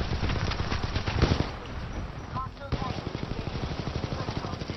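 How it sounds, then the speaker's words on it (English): Rapid automatic gunfire from a sentry gun in the video game Titanfall 2, a dense continuous rattle of shots with a brief dip midway, loud and close. "Yeah, little sentry gun, huh?"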